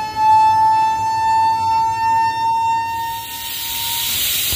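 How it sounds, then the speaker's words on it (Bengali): Pressure cooker whistling while cooking beef, a loud sustained wailing tone that holds for about three seconds and then dissolves into a broad rushing hiss of escaping steam. "এই প্রেশার কুকারের সাউন্ড শুনে আই এম তো অবাক, খুব মানে অদ্ভুত সাউন্ড, মানুষ কান্না করলে যেমন অমন"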